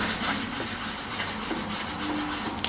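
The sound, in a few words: scrubbing a shoe with a magic sponge and Marseille soap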